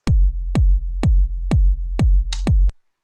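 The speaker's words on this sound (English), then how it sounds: "it's very similar, but the kick sounds like this" Six deep, punchy synthesized kick drum hits from a Noise Engineering plugin in a steady even rhythm, each with a booming low tail, the last one topped by a brief bright noise.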